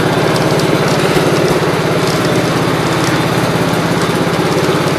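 A 1967 Gravely 430 tractor with transmission trouble drives in double low, its engine chugging in a loud, close, rapid steady pulse throughout, with no one talking.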